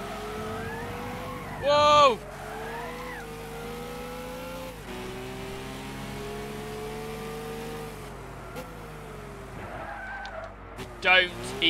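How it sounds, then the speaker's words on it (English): Race car engine whining and shifting gears through a Gran Turismo 6 race. Brief tire skids and squeals burst out near the start and again at the end, and someone talks over the noise. "Nearly spun my car out completely there."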